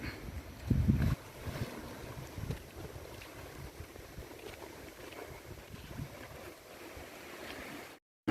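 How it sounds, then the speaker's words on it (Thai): A passenger boat arriving at a resort pier on Ko Ngam, off Ko Chang in Thailand, with a low engine rumble under steady wind and water noise at moderate distance, then an abrupt cutoff. "เรือมารับแล้วครับ"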